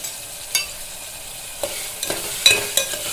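Brinjal frying in a pan with green chilli, turmeric and salt, with a low steady sizzle broken by several scraping spatula stirs, loud and close with no talk.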